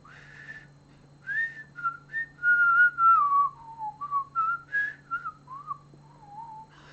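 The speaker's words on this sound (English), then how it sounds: "But I can whistle like this." A person whistles a wandering tune solo, a clear close melody of sustained and sliding notes with short pauses, over a faint steady hum.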